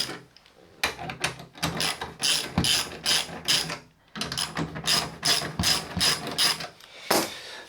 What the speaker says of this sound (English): So the first thing I need to do is just loosen up all these bolts.